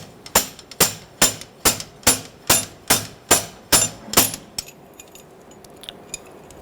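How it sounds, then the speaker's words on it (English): A slide hammer fitted with claws yanks a rear wheel bearing race out of a 1999-2004 Jeep Grand Cherokee, giving nine sharp metallic impacts in a steady rhythm, close and loud, followed by faint clinks. "Using our slide hammer with the claws, we're going to go ahead and pull out our bearing race."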